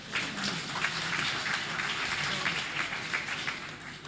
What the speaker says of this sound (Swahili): Tumpigie makofi hata kama.